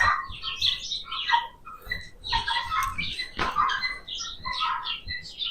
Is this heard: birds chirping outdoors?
yes